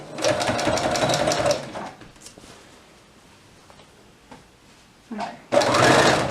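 A sewing machine stitches fabric for a toddler's elastic-waist dress, running in a fast, loud, close mechanical whir for about a second and a half. After a quiet pause it starts again near the end.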